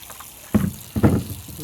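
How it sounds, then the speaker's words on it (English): Muddy water sloshes in a gold pan as soil is washed out by hand at a real gold mine, two short, heavy swishing surges close by. "Just keep washing out the mud."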